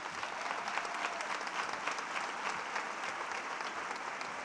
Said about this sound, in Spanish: Ese aplauso que haga estallar este teatro en 1000 pedazos.